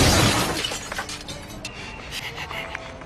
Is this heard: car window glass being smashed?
yes